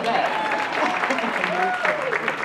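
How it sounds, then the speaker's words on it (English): Gala audience at a white party event gives a round of applause, a steady wash of clapping sustained throughout with voices mixed in. "We have to give her a round of applause just for"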